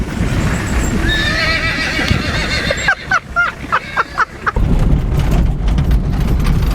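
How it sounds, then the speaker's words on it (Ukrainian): A horse neighs loudly and close in a long, quavering whinny, with hooves clip-clopping and a rumbling background before and after. "Коня спитай. Кінь!"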